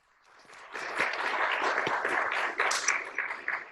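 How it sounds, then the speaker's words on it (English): Sustained applause and clapping from a surgical conference audience, starting softly and swelling into steady, dense hand-clapping for about three seconds, fairly close and loud. "There's a lot of clapping."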